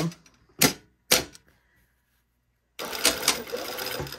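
Sewing machine stitching straight lining seams with the yoke up at a 2.5 mm stitch length: two short sharp bursts, a silent pause, then a sustained close run of stitching.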